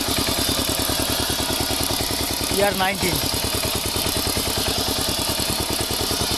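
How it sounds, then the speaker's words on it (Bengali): The engine of a Tempo power tiller, replaced after the original broke, runs at a steady idle with rapid even thumping close by, while a voice briefly speaks over it. "tempo power tiller"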